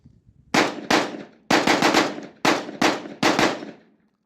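Genesis 12 shotgun firing Federal 1200 shells, several loud close blasts in quick pairs and singles, each with a sharp crack and short decay, no talking.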